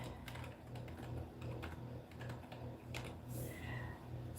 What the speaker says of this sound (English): what I'm about to do is I'm gonna type in food dehydrators